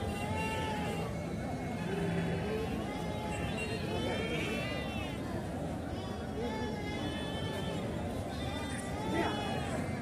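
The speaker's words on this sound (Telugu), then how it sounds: "ఇది అనంతపురంలో ఉన్నటువంటి ప్రతి శనివారం జరిగే పసల గొర్రెల సంత" Sheep bleat repeatedly through a busy outdoor livestock market in Anantapur, held every Saturday near the market yard, with a dense crowd babble of people talking underneath the animal calls.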